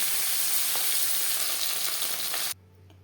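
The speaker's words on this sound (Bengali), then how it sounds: "পরের ব্যাচের মাছ একইভাবে ভেজে নেব" Tilapia pieces frying in hot oil give a loud, steady sizzle with small crackles for about two and a half seconds before it cuts to a faint low hum.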